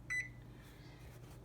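A kitchen oven timer is set while brownies bake, giving one short high electronic beep, followed by a faint steady hum in a quiet kitchen.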